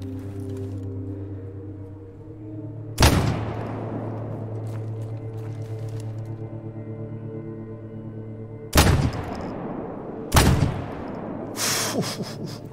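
Shotgun slugs fire in the STALKER GAMMA video game, three sharp, loud blasts spaced several seconds apart, the last two close together, over a steady low ambient hum.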